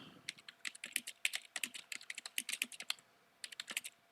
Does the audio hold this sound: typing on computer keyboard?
yes